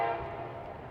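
A freight train horn sounds one sustained, loud, steady blast, near and alone, from an intermodal freight train by the Vermilion River in Ohio.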